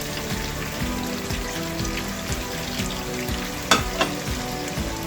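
Green chillies sizzling in Afghani mutton karahi, a loud continuous frying crackle with rhythmic scraping stir strokes and a sharp clatter near the end.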